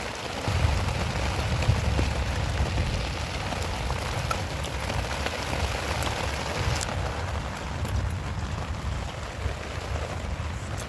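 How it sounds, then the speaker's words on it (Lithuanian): Heavy rain drums steadily on a tent during a night-time storm while camping, a dense continuous patter with low rumbling gusts throughout and no voices. "Nors lietus apsiramina."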